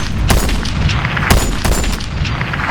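Suppressed gunfire from a weapon fitted with a Nomad suppressor in the VR shooter Ghosts of Tabor: several loud, sharp shots cracking in quick succession, close and booming rather than muffled.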